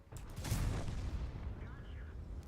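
A tank cannon fires in World of Tanks, a deep, booming blast swelling early and rolling off into a long rumbling tail, with a faint voice underneath.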